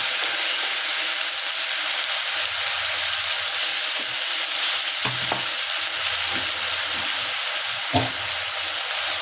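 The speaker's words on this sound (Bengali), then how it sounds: "লঙ্কা দিলাম একটু জিরে দিলাম দিয়ে একটু নাড়াচাড়া করে দু পেস্ট করা মশলাটা দিয়ে দিলাম" A pan of ground spice paste of ginger, garlic, onion, tomato and green chili sizzles steadily with chili and cumin for a Bombay duck fish curry, a close, constant hiss broken by a few scraping stirs of the spoon.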